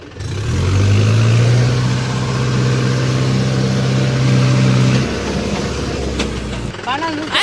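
A motorbike engine revving steadily while the bike is pushed and maneuvered on a Telugu village farm, a loud sustained drone that drops off near the end, with voices talking nearby.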